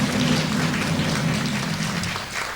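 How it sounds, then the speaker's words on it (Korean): A church congregation applauds steadily and fairly loudly, a dense wash of clapping that carries evenly before tapering off slightly near the end. "우리 수고하고 애쓴 분들을 위하여 큰 박수 한번 해주시기를 바랍니다"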